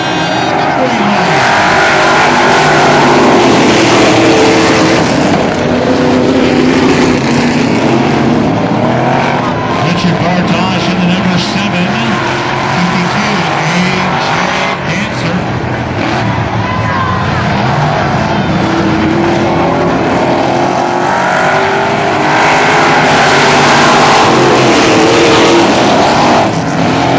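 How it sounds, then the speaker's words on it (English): Super stock race cars roar through an 8-lap heat race at a raceway, a dense, steady wall of engine noise with rising and falling revs as the pack passes, while a voice talks over the din. "It's an 8-lap heat race."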